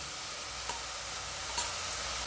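Garlic and green chili paste frying with onions makes a steady close hiss of sizzling oil, with two faint taps of a stirring spoon against the pan.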